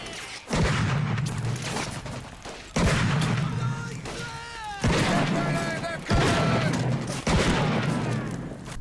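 Gunfire and explosions from the World War II shooter game Medal of Honor: Pacific Assault, with several sharp, heavy blasts at irregular intervals amid battle noise, while a voice talks over the action.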